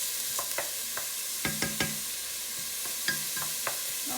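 Red onion and garlic cooking in a pot over slightly below medium heat, a soft steady sizzle broken by scattered clinks and scrapes of stirring, close and fairly quiet.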